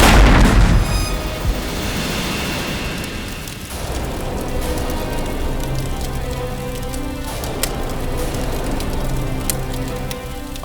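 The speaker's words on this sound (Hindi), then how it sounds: "अपना ही घर बॉम्ब से उड़ा लिया" A bomb blows up a house with a loud, close boom that opens into a long roaring rumble of falling debris, with a second softer burst a few seconds later, then a crackling, rain-like patter and no voices.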